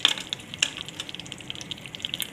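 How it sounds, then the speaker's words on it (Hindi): Whole spices frying in hot butter for a white mutton korma give a soft, steady sizzle with scattered sharp crackles and pops, close and unbroken by talk. "उसके बाद ये खड़े मसाले डाल देंगे,"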